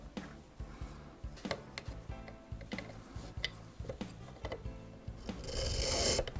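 A steel file rasps rhythmically across a pin held in a rotating pin vise while finishing a French Japy Freres Napoleon mantle clock, short strokes repeating close by, with a louder scraping burst at the end.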